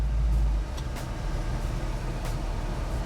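A 1984 Chevy K-10 truck grinds steadily off-road in four-wheel drive, its low engine drone heavy and close, with a louder rumble at the start and a few faint squeaks above.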